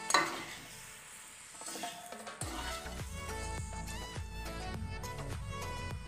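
Fried mourola fish being stirred into a simmering vegetable curry in a pan: a steady sizzle with repeated scraping and clinking of the spoon against the pan, close and moderately loud, with no talking.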